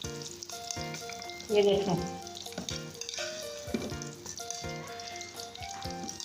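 Cauliflower pieces frying in hot oil for aloo gobi, a steady sizzle with stirring clatter beneath melodic background music and a brief spoken voice.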